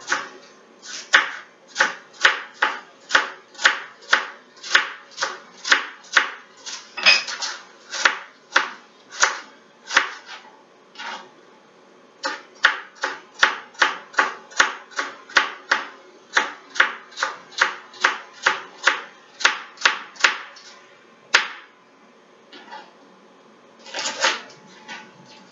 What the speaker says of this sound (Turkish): Evet, şöyle havucumuzu da doğrayalım.